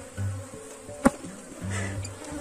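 A swarm of aggressive honey bees buzzing at a hive, a steady close drone with one sharp tap partway through and no talking.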